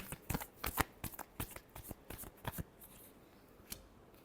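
Tarot cards are shuffled by hand in a quick series of crisp riffling bursts, close and clear, then thinning to a few soft taps with no talking.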